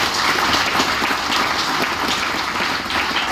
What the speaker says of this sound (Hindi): एक बार मैं अपने गुरु के लिए तालियां चाहता हूं,